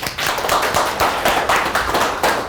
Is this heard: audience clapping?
yes